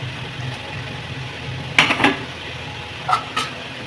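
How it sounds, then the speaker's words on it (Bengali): Potatoes tumble into a cooking pot of mutton kosha curry, a few quick clattering knocks and scrapes against the pot in two short bursts over a low background hum. "এবার আলু দিচ্ছি"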